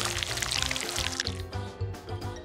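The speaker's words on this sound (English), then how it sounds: "we need to pour the cream into a bowl this way" Cream pours into a bowl in a steady trickling stream with bright splashy detail that thins out and stops, leaving a few faint drips; close and fairly quiet, without speech.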